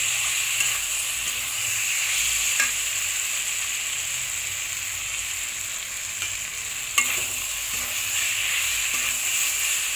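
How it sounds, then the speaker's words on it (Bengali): Poppy seed paste with green chili, cumin and ginger sizzling steadily in a hot pan, with occasional scrapes and taps of a spatula as it is stirred, close and continuous. "এটাকে একটু কষিয়ে নিচ্ছি এগুলো পোস্তটার সাথে"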